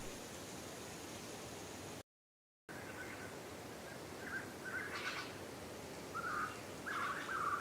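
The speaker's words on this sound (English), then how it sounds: "So that sounds like a jungle right there." Steady wash of dense jungle ambience, with scattered bird chirps and calls rising through it later on; a brief dropout to silence interrupts it early.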